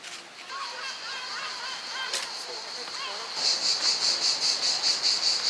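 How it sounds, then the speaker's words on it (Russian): A steady, high-pitched buzz of cicadas at a Bulgarian seaside resort drones throughout, swelling into a rhythmic pulsing trill in the latter half, with faint talk in the background. "Слушаем цикад."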